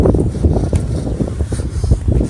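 Blustery wind on a cold, cloudy day on a main street in Northport, New York, rumbles against the microphone in a low, constant roar with uneven gusts.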